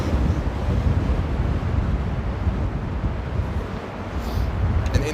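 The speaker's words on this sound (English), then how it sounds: "the wind is really kicking" Strong gusts buffet a microphone outdoors at Amsterdam Airport in rain and high wind, a loud continuous roar and rumble with no talk over it.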